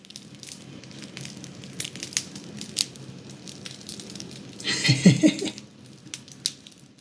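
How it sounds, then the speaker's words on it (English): An everyday French loaf's crust crackles with quiet, irregular crisp snaps up close, building to a brief louder burst of crunching as the bread is squeezed. "Everyday French loaf. You can hear it crackling."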